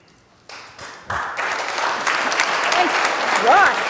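Audience at a conference workshop breaking into applause, starting with a few claps and swelling into steady clapping from a crowd, with a voice or two over it.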